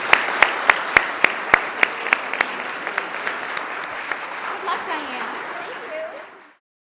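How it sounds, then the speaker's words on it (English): An audience at a League of Women Voters candidates forum in Elmhurst applauds the candidates, a few sharp claps building into steady clapping that gradually thins out and fades to silence. "join me in a round of applause for these candidates"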